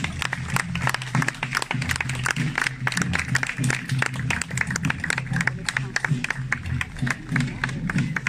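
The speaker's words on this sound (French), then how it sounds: "Vous pouvez les applaudir." A crowd applauds after a reenactment of the Battle of Austerlitz at Place d'Austerlitz in Ajaccio, with dense, steady outdoor clapping throughout, with some individual claps standing out and a low murmur of voices underneath.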